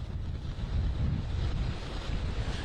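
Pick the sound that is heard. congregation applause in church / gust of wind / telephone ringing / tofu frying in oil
gust of wind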